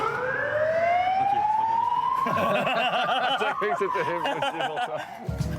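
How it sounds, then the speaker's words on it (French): A wailing siren sweeps up and down continuously, loud and close, with a second siren tone joining midway as vehicles pass nearby. "jusqu'au moment où nous entendons des sirènes se rapprocher"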